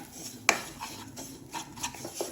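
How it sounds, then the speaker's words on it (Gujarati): A spoon stirring powdered sugar and lemon juice together in a pan, giving soft close scraping strokes with one sharp clink, faint and unhurried. "લીંબુનો રસ સારું એવું અડધી ચમચી, 1 ચમચી. બધાને મિક્સ કરીશું."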